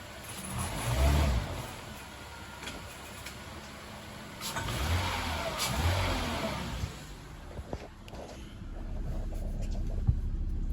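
A car engine idles and revs after a motor mount repair, with a few throttle blips rising and falling over a low rumble, heard up close with no talk.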